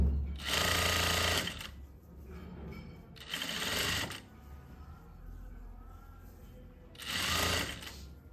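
Sewing machine stitching a garment's neckline at close range, whirring in three steady bursts of about a second each, separated by quieter pauses with faint handling noise.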